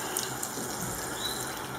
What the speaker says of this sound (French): je vais rajouter à peu près 15 centilitres de liquide. De l'eau, je veux dire.